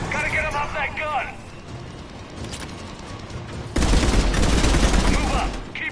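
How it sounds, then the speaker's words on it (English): Rapid bursts of mounted-gun fire in a video game, with a heavy, sustained volley in the second half, under shouted voices and battle noise. "Enemy on the mounted gun! Gotta get him off that gun!"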